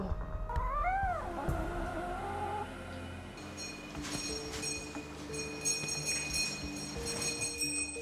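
A cat at a veterinary clinic gives a few loud, close, drawn-out meows early on, followed by quieter clinic background with faint tones and clatter.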